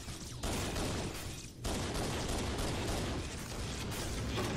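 Sniper rifle fire in Halo CE shows as loud, sustained blasts and roaring game combat noise that fills the whole stretch, with a brief drop after the first burst of noise and no talking.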